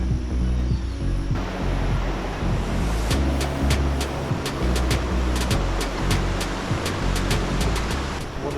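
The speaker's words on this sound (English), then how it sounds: "Water's flowing nicely." Water flows steadily through the natural bridge in a northern NSW national park, running well but not in flood; a continuous close rushing wash with a few faint clicks on top.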